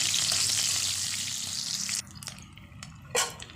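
Chopped onion and green chili frying in hot oil: a loud, dense sizzling hiss that suddenly drops away, followed by quieter stirring and a brief scrape in the pan.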